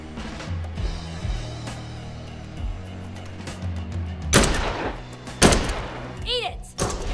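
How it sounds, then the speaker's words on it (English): Gunfire in Dead Island 2 during free roam on Venice Beach, with a few sharp shots cutting through background music and game ambience, followed by a ringing metallic sound. "See what a gun can do."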